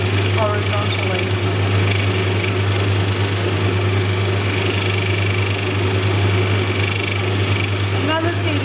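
A lapidary wheel grinds and shapes an opal in a continuous, loud, steady whir with a strong low hum, with the stone worked horizontally across the middle of the wheel.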